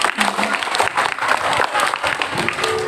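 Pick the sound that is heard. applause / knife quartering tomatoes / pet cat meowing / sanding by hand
applause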